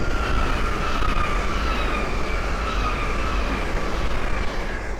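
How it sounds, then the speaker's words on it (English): A pair of Great Northern class 307 electric trains pass by on the line, a loud, steady rumble and roar of wheels on rail that holds throughout, with faint high whines drifting over it. "the next train to pass by is a pair of Great Northern 307s from London King's Cross to King's Lynn"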